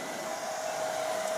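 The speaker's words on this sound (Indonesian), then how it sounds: "Nah, kali ini kita lagi mengeringkan badannya pakai hair dryer." A hair dryer blows steadily while drying a Persian cat after a bath, its constant whooshing airflow topped by a fixed motor whine, close and loud with no pauses.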